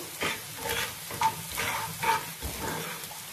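Onions with a little turmeric frying in a pan for a dry prawn dish, a steady close sizzle broken by repeated scraping stirs of the spatula, no talking.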